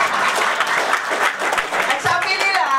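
Audience applause fills a hall, a continuous wash of many hands clapping at a loud, even level with voices mixed in beneath it.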